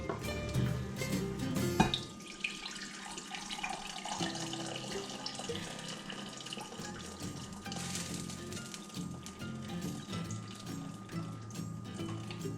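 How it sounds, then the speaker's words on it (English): Rendered fat from browned beef and sausage pours steadily from a heavy pan, a continuous liquid splashing and trickling for several seconds, with no talk. "I have the beef and the sausage all browned, and it's ready for me to pour off the fat."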